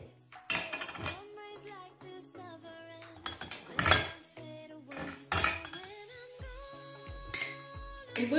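A metal spoon clinks and taps against a bowl while baking soda is added: scattered close, bright clinks with ringing tones, some single and some in quick clusters, spread irregularly over several seconds in a quiet room.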